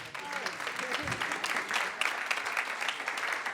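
An audience applauds guests taking their places on a panel at a talk on audio production, steady clapping from a modest crowd lasting a few seconds, with a voice briefly heard over it.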